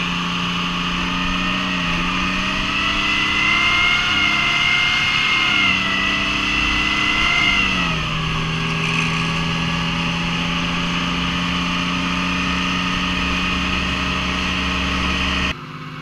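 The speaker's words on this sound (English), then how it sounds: "the boys get treated to a bit of a trip down the road in a tank" A road-legal tank drives along a village road, its engine droning loud and steady with a low, even rumble that dips in pitch briefly midway before settling, continuous throughout with no talking.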